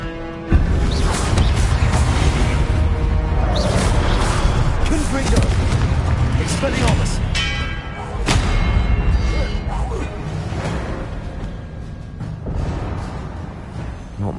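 Confringo spells are cast and explode in the Hogwarts Legacy video game, a sustained run of loud booming blasts and rumbling thuds with a few sharp hits, while a voice talks over the din.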